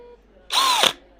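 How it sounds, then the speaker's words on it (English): A power drill whirs in one short, loud burst of about half a second, rising and then dropping in pitch as it stops, in an otherwise quiet room. "We just gotta drill our patient a little."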